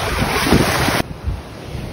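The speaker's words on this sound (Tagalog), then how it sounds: "Yan mga tropa, ang alon." Sea waves surging and washing in at Marsalforn on Gozo, Malta, loud and close, with wind buffeting the microphone; the roar drops off sharply about halfway through, leaving quieter surf.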